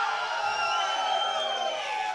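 A large crowd at a Premier League grand final cheers for the North Sydney Sentinels, a steady wash of voices and whoops that holds at an even, loud level throughout.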